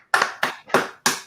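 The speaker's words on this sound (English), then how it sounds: "Big round of applause for Dominic the comic," Four sharp, evenly spaced hand claps at an open mic comedy night, loud and close, with brief silences between them and no voices.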